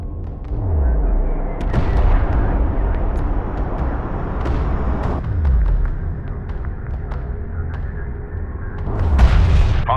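Repeated heavy booms and rumbling blasts from an airstrike in the real-time strategy game Homeworld: Deserts of Kharak, several deep explosions with descending whooshes over a constant engine-like drone, loud and close.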